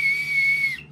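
A small whistle from a carried bag gives one sharp, steady, piercing blast lasting under a second, loud and close, with no talk around it.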